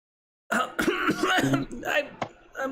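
A person coughs in a rapid string of harsh, throaty bursts, close and fairly loud.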